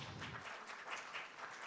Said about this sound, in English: Give them once again a round of applause.